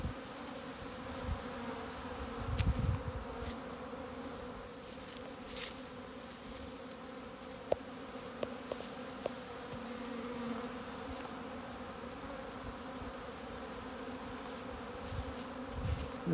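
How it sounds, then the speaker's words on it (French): Honeybees flying out of the top entrance of a hive, a continuous buzzing drone of many insects with occasional closer passes. "les abeilles sortent par l'entrée en haut. Puis souvent, elles vont se déposer sur le toit."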